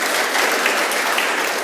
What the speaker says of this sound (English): a very big round of applause for these people.